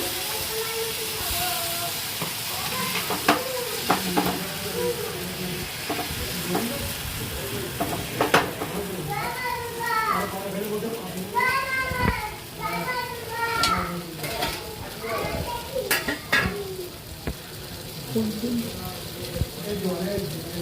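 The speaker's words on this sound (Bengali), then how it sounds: "প্রথমে একটু তেল দিলাম, তেলটা একটু গরম হয়ে গেল, তারপরে একটু গোলাটা দিয়ে দিলাম।" Batter of wheat flour, egg, chaat masala and salt fries in hot oil in a pan, a steady hiss and sizzle with occasional scraping and clinks of a utensil, while someone speaks over it.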